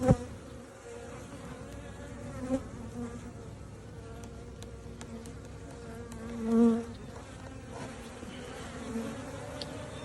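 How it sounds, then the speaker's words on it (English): A steady, busy drone of many honeybees buzzing close by around a hive frame, with a few individual insects swelling louder as they pass near. "And this is a frame of bees."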